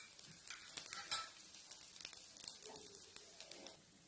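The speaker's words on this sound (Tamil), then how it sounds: "சுத்தியும் எண்ணெய் விட்டுக்கோங்க. மீடியம் ஃப்ளேம்லயே வச்சு நல்லா வேக விட்டுறலாம்." Sorghum dosa batter cooking on a hot pan with oil drizzled around it, giving a faint, soft sizzle with light crackles and occasional scraping taps, no talking.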